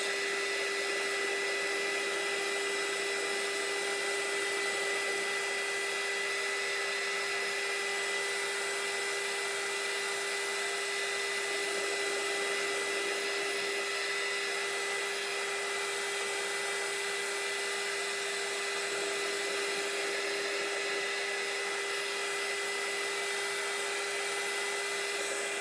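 Hair dryer blowing on a t-shirt, a steady loud whooshing hum with a constant whine that runs unbroken throughout, with no talk.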